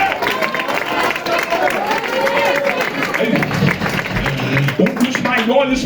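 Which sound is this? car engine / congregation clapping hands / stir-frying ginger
congregation clapping hands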